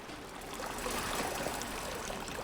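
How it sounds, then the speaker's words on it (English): Water drains away in the video game Amnesia: Rebirth, a continuous soft trickling and gurgling flow, faint and steady throughout with no talking. "And that drains the water too,"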